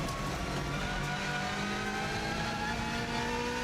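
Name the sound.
Subaru Impreza rally car engine accelerating uphill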